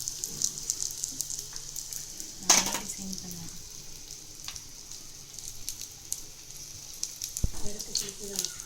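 Chicken cutlets fry in oil with a steady, quiet sizzle throughout, broken by occasional clinks and scrapes of a utensil against the pan.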